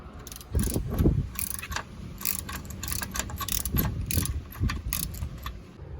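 A bolt being removed on a Mercury four-stroke outboard motor, with repeated ratcheting clicks and metallic scraping in uneven bursts, close and fairly loud, without talk.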